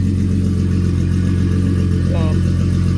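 Nismo barn-find car engine idling after being brought back to life, a steady loud low rumble throughout, with a brief voice near the end.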